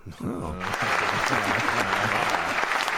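Dense, sustained applause rises after a short vocal exclamation and continues loud and even over talk to the end.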